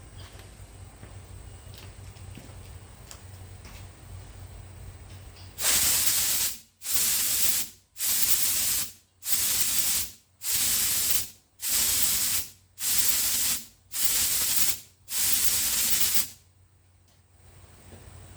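Compressed air is blown through the fuel line of a 1968 Datsun 1000 in ten loud, evenly spaced hissing bursts of about a second each, sharp and close against a quiet background hum.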